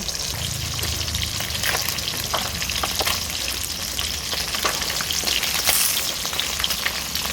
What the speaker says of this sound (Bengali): মাছগুলো সব উল্টে দিয়েছি, এই পিঠটা এবার আর একটু ভেজে আমি তুলে নেব।